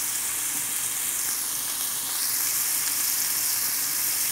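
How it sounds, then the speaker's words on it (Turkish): Sliced zucchini for an egg-and-zucchini dish sautés in a hot pan, giving a loud, even, close sizzle and hiss that holds steady throughout with no voices. "Şu anda kavruluyor."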